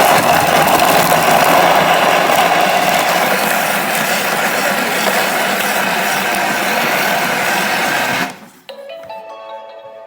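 A Thermomix food processor mixing at speed 6 whirs loudly and steadily for about eight seconds, then cuts off abruptly, leaving a brief quiet tail with faint tonal beeps.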